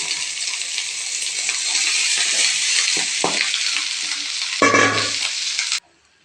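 Home-style rice with ghee frying and being stirred in a pan, a loud continuous sizzle with scraping strokes of the spoon, a sharper burst of hissing near the end before it cuts off abruptly.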